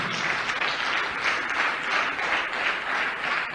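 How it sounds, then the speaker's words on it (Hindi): An audience of about 150 to 200 seated people applauds steadily, dense clapping from many hands in rolling waves, filling the whole stretch without speech. "इनके लिए जोरदार तालियां बजाइए आप"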